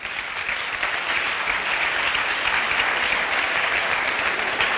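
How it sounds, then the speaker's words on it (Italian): A crowd at a volleyball club event claps steadily for several seconds, a dense, even wash of applause with no voices standing out. "ma vi prego di fare un applauso"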